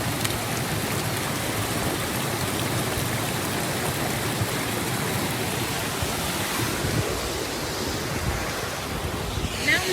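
A mountain stream on an off-road trail flows and splashes steadily for the whole stretch, a dense, even rush of water close by with no pauses.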